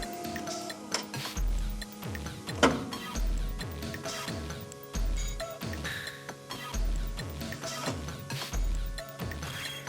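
A Nikon Super Coolscan 9000 ED film scanner motor-drives its tray out, giving a series of soft mechanical ticks and whirring clicks in a repeating rhythm, close and fairly quiet, with no talking.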